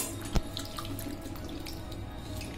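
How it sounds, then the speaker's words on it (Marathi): Cold water from a tap runs onto boiled, squeezed bitter gourd (karela) in a home kitchen: a steady splashing stream with a brief knock near the start and no voices. "बघा आता हे याच्यामध्ये थंड पाणी टाकलं थोडं मी"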